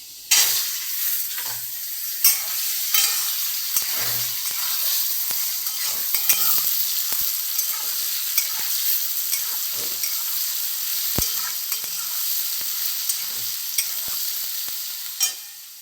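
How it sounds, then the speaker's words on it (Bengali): Soybean chunks fry in a pan with a steady close sizzle, stirred now and then with scraping clicks and taps throughout. "সোয়াবিনটা একটু ভেজে নিই।"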